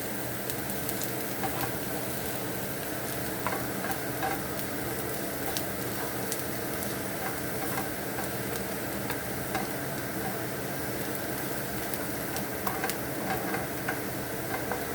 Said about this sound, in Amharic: ነጭ ሽንኩርታችንን ከጨመርን በኋላ ትንሽ እንጠብሰዋለን አንድ ላይ